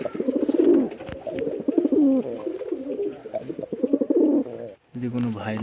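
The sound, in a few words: pigeons cooing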